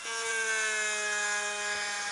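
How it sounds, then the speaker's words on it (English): A drill bores into a tortoise shell with a steady, high whine that holds a constant pitch through the short stretch, close and fairly quiet. "It's a drill."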